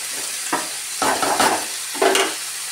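Chicken pish pash ingredients are sautéed with sugar in a pan, giving three or four loud scraping stirring bursts over a steady low sizzle, with no voices.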